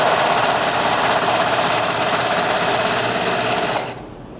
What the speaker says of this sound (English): We have a serger, which is also a sewing machine,